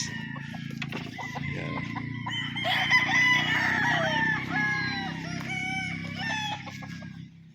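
Several roosters crow over a bed of clucking hens and chicks on a farm, the calls overlapping and fairly close, with a busy farmyard din throughout.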